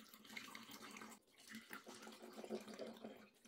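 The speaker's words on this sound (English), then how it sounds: "Next, I'm gonna add the highlighter water." Highlighter-dyed water is poured into shoes packed with Orbeez beads, a steady, moderately loud splashing and trickling pour lasting a few seconds with a brief dip midway.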